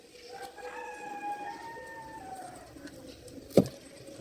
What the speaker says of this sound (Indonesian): Ada ayam bunyi ya